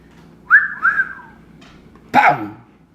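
A person gives two short whistles, a quick rising note followed by a gliding one, and then a brief louder bark-like call follows. No one speaks.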